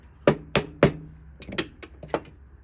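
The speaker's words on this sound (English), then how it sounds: "This is a hammer now." Several sharp hammer strikes, three loud evenly spaced blows followed by a quicker run of lighter taps, close by with a slight ringing tone.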